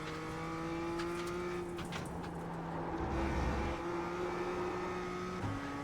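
The BMW M2 race car's engine in the iRacing sim racing game hums at a steady pitch, then drops sharply at several points as speed changes, heard fairly faint with no voices.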